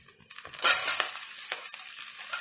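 Onions sizzling and frying in hot oil in a pan for a soya tomato pulao, a steady near hiss with a few stirring scrapes.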